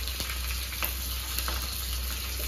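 Curry leaves sizzle in hot oil with mustard seeds and cumin, a loud, even hiss close by with faint spattering crackles and no talking.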